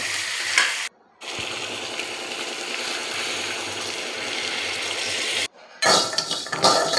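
Chicken wings frying in a pan with onion and ginger-garlic paste, producing a loud, continuous close sizzle broken by two brief sudden silences.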